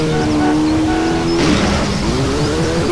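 A car's engine in GTA San Andreas holds a loud, steady whine, then shifts pitch as the car slows into a corner with throttle eased off for a drift, with no talking.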